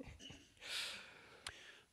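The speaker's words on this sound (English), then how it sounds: "I have to keep clearing my throat" A commentator at a Rainbow Six Siege North American League esports match, suffering from allergies, clears his throat once in a short, close, rasping burst, followed by a small click.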